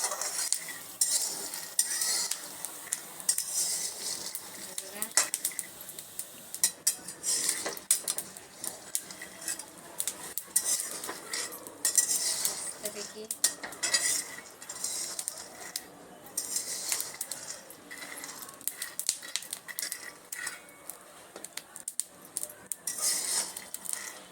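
Peanuts stirred as they roast in a pan, with repeated scraping and rattling of a spoon against the metal, an uneven rhythm of strokes that keeps on with short pauses, close and fairly soft.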